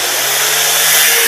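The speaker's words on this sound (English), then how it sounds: "The weight of the grinder is enough pressure for you guys to put on." An angle grinder bevelling the edge of a steel pipe being prepared for a 6010 open-root weld, a loud continuous high-pitched whine with a steady motor drone, close and alone.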